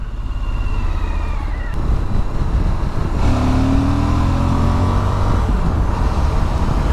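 A Suzuki V-Strom 1050XT adventure motorcycle pulls out to overtake on the road, its engine note rising and revving hard under wind rush, loud and close throughout with no talk.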